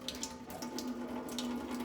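Water trickles and drains from a tipped-over air plant into a sink, a faint, steady splashing flow with a low hum running underneath throughout.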